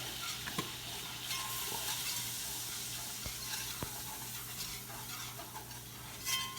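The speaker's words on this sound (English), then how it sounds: "I'm going to just stir that in" About two tablespoons of flour is stirred into a pan for Cajun shrimp and grits. A soft, steady sizzle runs under gentle scraping strokes and a few faint utensil taps, with no voices.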